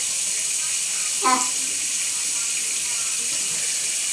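Running water from a tap pours in a steady, hissing wash while a face is rinsed on a hot morning, with one brief splash as hands hit the face, close and alone.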